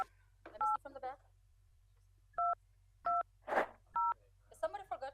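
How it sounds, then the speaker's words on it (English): Several telephone keypad tones beep one at a time, evenly spaced, as a meeting password is entered on a city council call line, with brief talk in between over a low steady hum. "Please enter the meeting password followed by pound."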